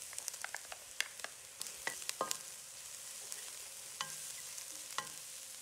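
Garlic stir-fried in a pan for dim sum taro puff filling, a faint steady sizzle with a scattering of sharp scraping and clinking stir strokes, sparse and quiet.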